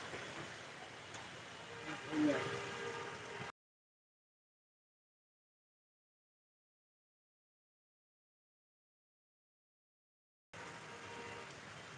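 Rain falls outdoors in Hemayetpur as a steady, moderately loud broadband hiss with a voice faintly over it, broken by a long stretch of complete silence before the hiss returns.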